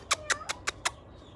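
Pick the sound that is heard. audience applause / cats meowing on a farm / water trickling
cats meowing on a farm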